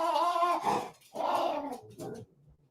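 A puppy being coaxed indoors makes a few close vocal sounds, whining and low grumbling yips in three short bursts with brief pauses between them.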